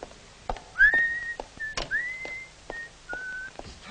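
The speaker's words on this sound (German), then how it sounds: "Das Pfeifen stört." Someone whistles a short tune at close range, a few clear sustained notes with brief slides between them, heard alone over faint background rustle.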